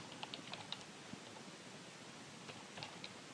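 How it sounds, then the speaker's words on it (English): Typing on a computer keyboard, a quick burst of light clicks at the start and a few more near the end, separated by a soft hiss with no voice. "So we type in"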